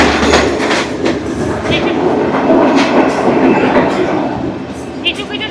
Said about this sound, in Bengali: একটা রেল লাইনে উঠে গেল ট্রেনটা।